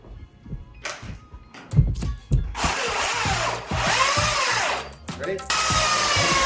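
A Makita 40V Max power tool starts after some handling clatter and rattles, then spins up into a loud, steady high-pitched whir that briefly dips and surges before running on at full speed.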